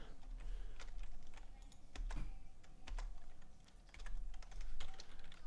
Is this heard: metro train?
no